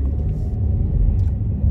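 Inside a new Hyundai Elantra, a steady low engine and road rumble drones evenly, close and fairly loud, with no one speaking.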